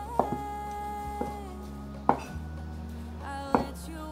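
A knife slices fresh market-bought shiitake mushrooms on a cutting board. Four sparse, crisp taps land close by over a steady low hum.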